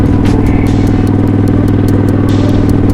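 A custom chopper motorcycle cruising at around 70 mph puts out a loud, steady, throaty engine drone with a constant rumbling pulse and some mechanical clatter, close and continuous throughout.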